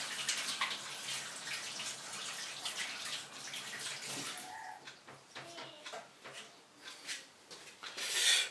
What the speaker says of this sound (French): On va les nettoyer tout de suite sous l'évier.